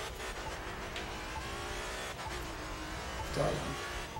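Car in the racing video game The Crew 2 cruising at around 200 km/h, a steady engine drone running throughout with a brief louder surge near the end, under someone speaking German.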